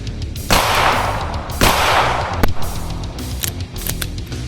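Springfield Prodigy pistol firing rounds at a range, a few loud, close shots spaced over a couple of seconds with smaller clicks and handling noise between.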